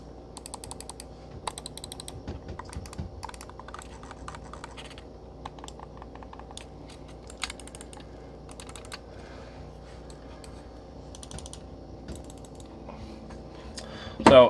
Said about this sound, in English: I'll go ahead and go through the click button so you guys can hear what these sound like